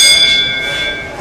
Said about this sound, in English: No, that was a 5-minute bell.